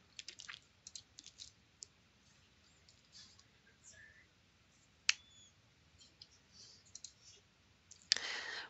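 Computer mouse clicking through website dialog boxes: sparse, faint, crisp clicks, some in quick pairs and small clusters, over a quiet room hiss.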